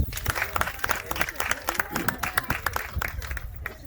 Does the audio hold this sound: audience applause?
yes